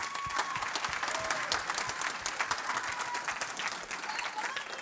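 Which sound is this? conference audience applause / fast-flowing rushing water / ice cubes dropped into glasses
conference audience applause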